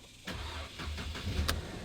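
An older Mercedes car starts up with a short cranking burst and catches into a running engine rumble within about two seconds, close and moderately loud.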